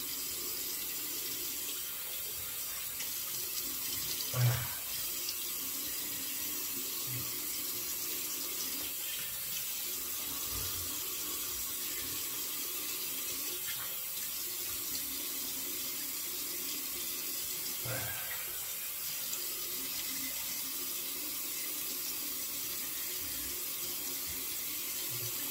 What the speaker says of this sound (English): So we'll give it a rinse